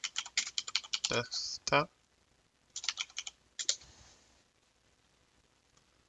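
Fingers tap a computer keyboard in quick bursts of close, crisp key clicks with short pauses between them, while a voice briefly speaks.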